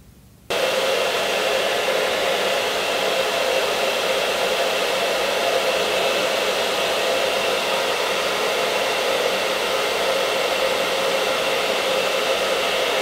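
A hair dryer on high heat blows steadily and loudly on hair during a formal up-do styling, switching on abruptly and holding a constant whooshing roar with no voices.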